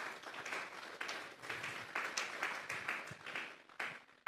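A church congregation claps in applause, dense overlapping hand claps with sharper individual smacks, filling the room at a steady level with a few louder bursts.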